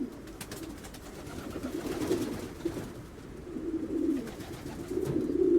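Racing pigeons coo in a loft, low throaty rolling calls from a male bird rising and falling in repeated phrases, close and fairly soft, with no talking.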